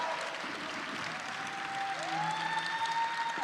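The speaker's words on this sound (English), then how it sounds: "Give the students another round of applause." At a panel event on race in modern America, an audience applauds students with a fairly faint, steady spread of clapping, while a thin feedback-like whistle rises and holds.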